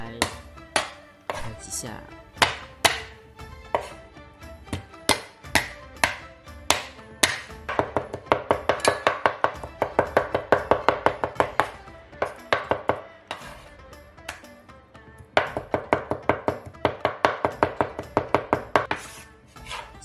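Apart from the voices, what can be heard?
flattening and pounding food into a paste with a cleaver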